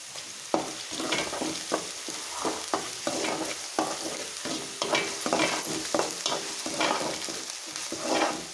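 Ginger-garlic paste fries in a pan for Rayalaseema-style boti curry. A spatula scrapes the pan roughly every half second over a soft, continuous sizzle, close and fairly quiet.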